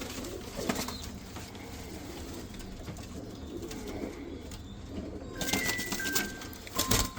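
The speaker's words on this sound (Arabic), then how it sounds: "الطيور كلها بغداديات" Baghdadi pigeons coo in soft, repeated low throaty phrases, fairly close, with a few sharper sounds near the end.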